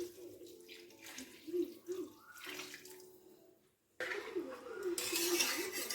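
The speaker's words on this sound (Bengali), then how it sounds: "জলটা ঢেলে দিলাম।" A litre of water pours into a pot holding 500 g of rice for basanti pulao. The splashing runs steady and fairly close, with a short pause midway, then a louder, fuller stretch of pouring.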